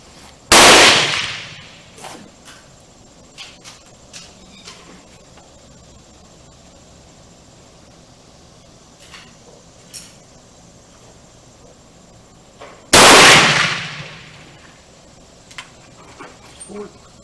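Two loud, sharp reports from a Swedish Remington rolling block 1867/89 rifle firing reloaded rounds, about twelve seconds apart. Each shot ends in a brief decay, with quiet outdoor background between them.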